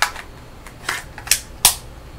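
A Bersa Thunder 9 Pro pistol is reloaded: four or five sharp, close metallic clicks and snaps come at irregular intervals over a quiet background.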